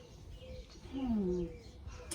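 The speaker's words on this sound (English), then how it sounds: "let's just relax here for just a minute and listen to the birds" Birds sing and chirp outdoors in a short, fairly faint call with a falling whistle, set against soft background noise.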